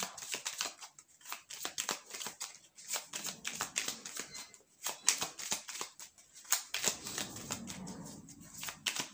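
A deck of playing cards is cut and shuffled in a run of quick, crisp riffling snaps and slaps, close and fairly quiet, with soft handling noises between.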